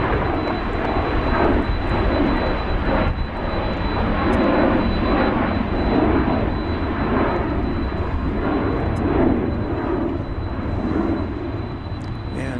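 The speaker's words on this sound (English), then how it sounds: "one of Boeing's newer offerings. This 767 built in December of 2023." A Boeing 767 jet airliner built in December 2023, heard at DFW Airport, its engines making a steady, loud, broadband roar that holds throughout without any talk.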